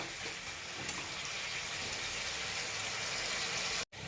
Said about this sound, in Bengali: পেঁয়াজকলি আর আলুটা আমার ভাজা ভাজা হয়ে গেছে। এবার আমি টমেটোর কুচিগুলো দিয়ে দিলাম।